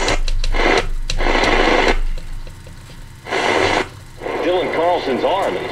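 A Sony Dream Machine ICF-CD855V clock radio is tuned across the AM band, giving bursts of static and hiss alternating with faint snatches of broadcast voice and warbling interference tones, loud and close.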